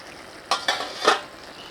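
A spoon stirring mixed vegetables in a covered cooking pot for a Bhogi bhaji: three quick metallic scrapes and clinks against the pot, close and fairly loud, over a faint background hiss, with no voices.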